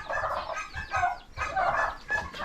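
A golden Phoenix Bantam hen with her young chicks makes close, loud bursts of clucking and throaty calls in two or three quick phrases.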